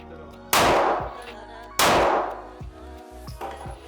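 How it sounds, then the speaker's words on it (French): Two loud Glock pistol shots at a shooting match, sharp close cracks about a second apart with ringing tails, followed by fainter distant pops and clatter. "c'est la deuxième fois qu'il tire avec un Glock"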